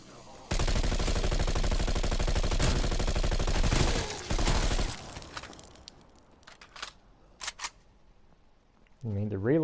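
The Bullfrog gun firing in a video game: a loud sustained burst of rapid automatic fire for about four seconds, followed by scattered reload clicks and clacks, then a voice speaking at the end.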